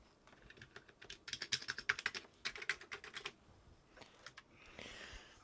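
Quick bursts of typing on a restored Commodore Plus/4 home computer keyboard, crisp clattering keystrokes in uneven runs with short pauses, close and fairly quiet with no voices.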